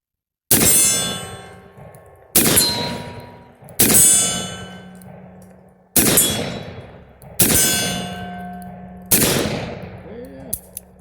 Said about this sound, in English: you'll notice this has more blast to it